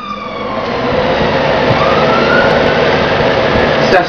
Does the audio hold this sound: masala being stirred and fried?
no